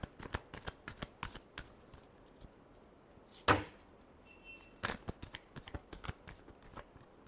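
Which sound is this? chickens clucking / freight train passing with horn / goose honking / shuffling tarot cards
shuffling tarot cards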